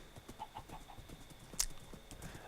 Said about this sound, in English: And riding a horse. Just riding a horse.